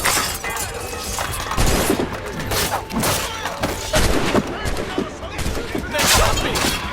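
Dense, rapid gunfire and impacts crackle in Assassin's Creed Rogue, loud and continuous, with booms and crashes mixed in and shouting voices over the battle.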